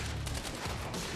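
Enemy gunfire in the video game Quantum Break on hard difficulty: a dense, rapid burst of overlapping shots with no let-up, loud and continuous with no voices.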